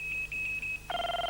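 A telephone rings in an office, first a steady electronic tone pulsing faintly, then a louder warbling ring that cuts in near the end, with no one talking.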